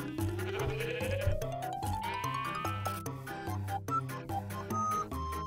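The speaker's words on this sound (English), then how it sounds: "Oh, the sheep are chilly." Sheep bleat in the video game Minecraft over steady game music with a rising tone. Calls come in short bursts through the clip, alone with no talk.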